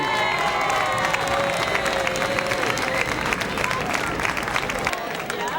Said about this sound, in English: let's give our young baseball players who dream big dreams a big round of applause as well